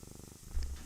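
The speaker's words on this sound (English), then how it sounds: "She's purring." A house cat purrs, held up close to a microphone, giving a soft, steady low rumble with rhythmic pulses, faint and alone without talking.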